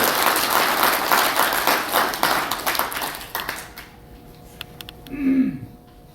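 An audience at a launch ceremony in a press center hall gives a dense round of applause that fades out over a few seconds, leaving a quiet room with a faint tone and brief rustle.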